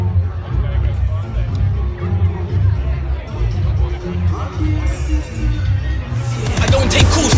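Dense crowd babble fills a Melbourne New Year's Eve gathering, many overlapping voices and chatter close around, steady and loud, swelling with a brighter burst of noise near the end.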